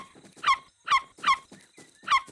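Cartoon dog giving four sharp, bright barks spaced at a steady rhythm, close and loud, from an animated children's adventure show on an island.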